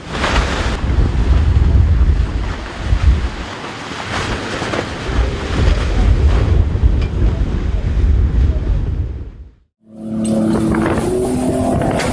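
Ocean waves and strong wind buffet around a luxury yacht at sea, a loud roaring rush with heavy microphone wind noise that cuts out briefly near the end, then resumes with a tonal hum.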